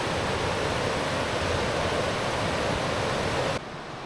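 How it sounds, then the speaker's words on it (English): A roaring river swollen by recent rains along the Meadow River Rail Trail in West Virginia, a steady, loud broadband rush of churning water with no voices, dropping slightly in level near the end. "along the river that's been roaring like this"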